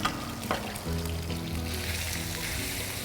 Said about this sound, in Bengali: একই সাথে ভাজা হচ্ছে